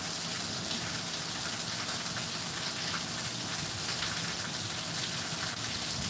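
Steady rain falling in Minnesota, a dense continuous hiss of drops striking surfaces, close and even in level throughout with no voices.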